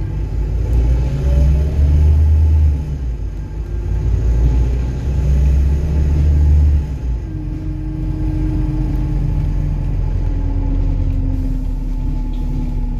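An Arriva Yorkshire hybrid bus, fleet number 1718, drives along with a loud, close low rumble that swells and eases in pulses, then settles into a steadier hum with a faint rising whine from the drivetrain.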